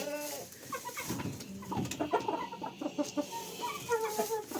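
Several chickens and a rooster cluck and murmur close by while feeding, overlapping short calls in an uneven chatter with no talking.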